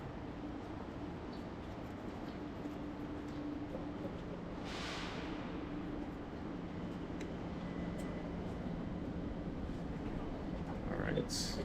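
A passenger train heading toward the Great Wall rolls along with a steady broad rumble and hiss, a faint tonal hum running through it and a brief louder rush partway through.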